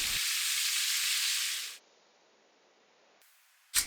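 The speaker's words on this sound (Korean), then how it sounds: "이렇게 간장을 따로 볶으면 간장의 향이 더욱 짙어지고 불맛을 느낄 수 있어요" Soy sauce hitting a hot pan for stir-frying, a loud steady hiss and sizzle that cuts off abruptly into quiet low noise, then a brief sharp crackle at the end.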